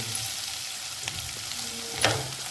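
Onion, grated ginger and crushed garlic sautéing in a pan for soybean masala, a steady close sizzle with a couple of brief scrapes of a spoon.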